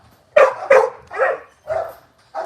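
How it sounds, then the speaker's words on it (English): A bandog barks five times, close and loud, in deep spaced woofs with short pauses between them. "Just a beautiful fucking band dog right here, man."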